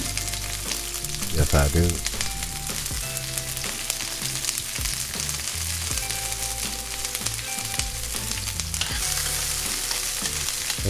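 Onions sizzle steadily in olive oil in a pan, a continuous close frying hiss with stirring scrapes and clatter, and a brief burst of louder sputtering early on; a voice speaks briefly.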